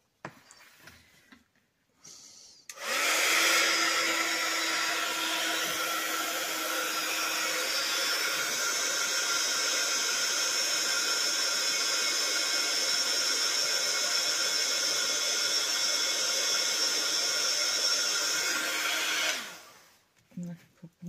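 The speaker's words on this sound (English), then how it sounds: "I'm just going to use the dryer." A hair dryer blows on wet paint on a junk journal page, switching on abruptly and holding a steady loud whooshing drone for about sixteen seconds before cutting off.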